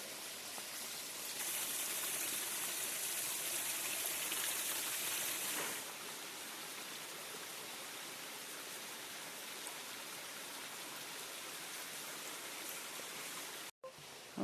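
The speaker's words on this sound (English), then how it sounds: "And we come to our first waterfall." Waterfall on a mountain hiking trail, water rushing over stones in a steady broadband hiss that swells louder for a few seconds before settling to a constant even roar.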